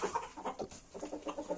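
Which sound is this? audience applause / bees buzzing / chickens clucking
chickens clucking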